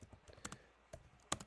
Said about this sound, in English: and I would type in auto